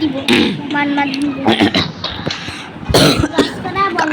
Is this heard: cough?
yes